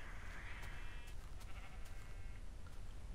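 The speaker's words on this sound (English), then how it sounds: "We got a sheep." A sheep bleats faintly in Minecraft gameplay, a few short distant bleats over a quiet background hum.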